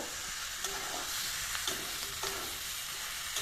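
Jackfruit curry with spices stirred in a pan, a steady frying sizzle with a spoon scraping the pan in periodic strokes, close and fairly quiet, no talk.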